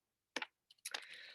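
A computer keyboard is tapped in a couple of quick, faint keystroke bursts, then a longer run of soft, rapid typing close by during a programming lesson, with no talking.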